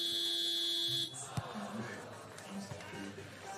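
A loud, steady game buzzer at a FIBA 3x3 women's basketball event in Poitiers sounds for about a second, then cuts off, leaving crowd noise and scattered voices.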